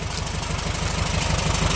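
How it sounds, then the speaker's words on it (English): A 1961 Australian-made Volkswagen Beetle engine runs steadily during a test drive, a loud, even, continuous rumble with a fast regular pulse and no pauses or voices. "Engine runs sweet."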